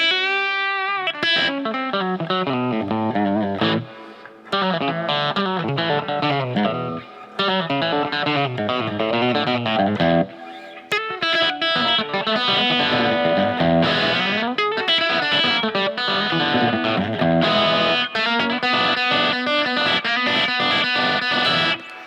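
An electric guitar with a stacked humbucker pickup plays through a Spark Mini amp, giving a slightly broken-up, effects-laden tone with some hiss. It moves through a run of ringing chords and single notes, loud and close, with short gaps between phrases and no voice.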